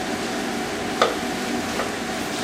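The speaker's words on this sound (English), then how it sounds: "And this beef is almost getting browned over." Cubed beef sirloin steak tips browning in a pot with potatoes give off a soft, steady sizzle, with a brief utensil clink and a stir partway through, quiet and close.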